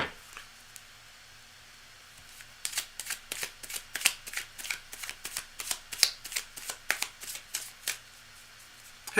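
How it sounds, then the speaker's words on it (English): Tarot cards being shuffled close by, a quick series of crisp riffling bursts after a short quiet start, with no voices. "Actually, no, let me shuffle a bit more."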